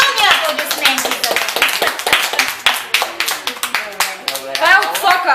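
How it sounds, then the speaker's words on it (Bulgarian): Audience applauding a magic trick at a children's show: a rapid, loud burst of many hands clapping, with a steady rhythm that swells slightly near the end, with voices of kids mixed in. "Силни аплодисменти за"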